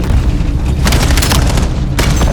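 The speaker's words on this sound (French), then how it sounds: "Attention, grenade à dispersion." Cluster grenade detonating in a Call of Duty match, a loud dense crackle of overlapping blasts with a sharp burst near the middle and another toward the end over continuous rumbling battle noise.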